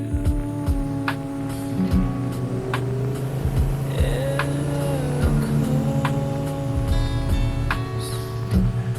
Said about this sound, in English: This is the story of my 1967 Chevrolet Impala